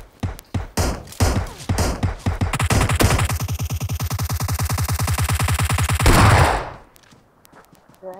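Sustained gunfire in PUBG, opening with scattered loud single shots and then building into a dense, rapid automatic burst that runs for several seconds before cutting off. The shots are close and loud, with no voices.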